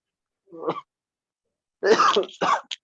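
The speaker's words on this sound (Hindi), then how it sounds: "देखो इसको खांसी हो गई एडवांस के नाम पे।" A short cough, then after a pause a couple more harsh coughs in quick succession, close and fairly quiet.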